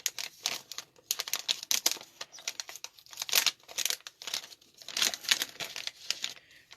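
A plastic refill package crinkles and tears as scissors cut it open, in quick irregular bursts of rustling close up, with no talk.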